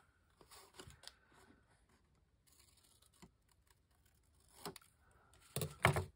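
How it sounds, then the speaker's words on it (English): A few quiet, close snips of scissors trimming the corners off fabric for a sewn pocket gusset, spaced out with short pauses and a denser cluster of cuts at the end. "And then I'm going to cut off these corners."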